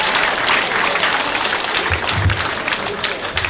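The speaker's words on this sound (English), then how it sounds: "Clap for him." Audience applause fills a standup comedy show, a dense steady wash of clapping from a crowd, loud and sustained throughout with no break.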